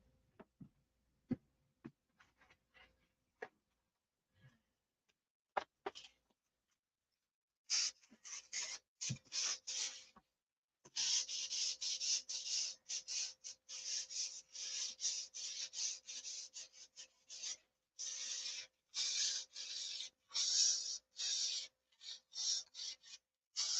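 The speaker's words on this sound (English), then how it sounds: "Let me sand it." Hand-sanding burrs off a small model airplane part, with a few scattered taps first, then close, dry scratchy strokes in rapid irregular bursts, steady and moderately loud against a quiet room.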